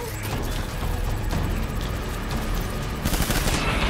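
Rapid, dense gunfire in Death Stranding rattles on continuously and loud at close range, a sustained machine-gun-like barrage with a sharper crack near the end.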